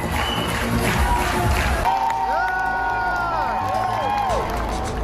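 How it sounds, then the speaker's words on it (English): At an RRR screening in Los Angeles, a loud crowd of fans cheers and claps, with high excited shouts and whoops rising and falling over the steady roar. "Fans were seen cheering and dancing to the songs of the movie."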